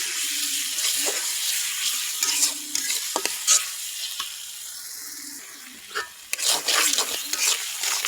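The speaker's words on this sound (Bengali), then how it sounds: "এখানে আদা রসুন বাটা আর এখানে একটু শুকনো মরিচ বাটা দিয়ে আর একটু ভাজা নেবে।" Onion and chilli frying in oil with ginger-garlic paste and dried chilli paste sizzle close by while a spatula stirs and scrapes in irregular bursts, with a few sharp clinks and no voices.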